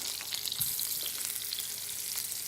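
Spicy lamb–stuffed aubergines fry lightly in a pan before going into the oven, giving a steady, soft, close sizzle and crackle with no voices.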